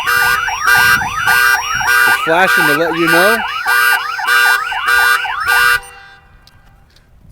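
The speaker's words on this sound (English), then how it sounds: "It's a very, very loud alarm, especially when it's tapped in to the factory horn system" A Viper car alarm in panic mode, wired into a factory horn, blasts a loud cycling siren with repeated rising-falling wails and chirps, stepping through tones before cutting off abruptly near the end.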